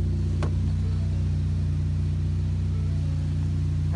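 A 2013 Ford Focus ST hatchback with a six-speed sits with its engine running, a steady low rumble at an even level throughout with no revving.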